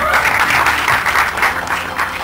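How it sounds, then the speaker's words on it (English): An audience at a film trailer launch in India claps loudly and steadily, a close, full round of applause with a faint murmur of the crowd beneath. "So having got these claps"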